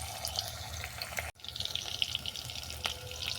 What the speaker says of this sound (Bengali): ফোড়ন ভাজা হয়ে গেছে, এবার দেবো রসুন বাটা